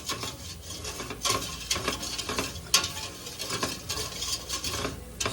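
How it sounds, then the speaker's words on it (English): Whisk scraping and stirring flour in a pan for mac and cheese over low heat, with a steady scratchy rustle and sharper clinks against the pan, close up and with no talking. "Stir it around in there, let that flour get cooked."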